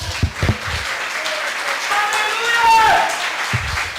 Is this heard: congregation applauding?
yes